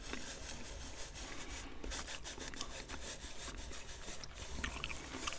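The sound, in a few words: finger rubbing pencil shavings on paper map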